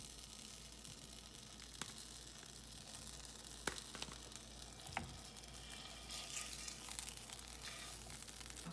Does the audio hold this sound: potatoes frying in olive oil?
yes